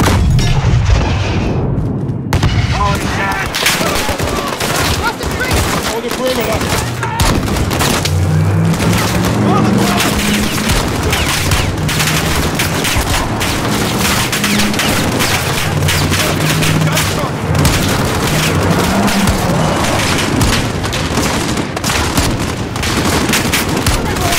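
Grenade blast and heavy gunfire in the Call of Duty: Modern Warfare night sniper mission, with dense rapid shots, booms and rattling automatic fire over a constant battle din, with shouted voices in the mix.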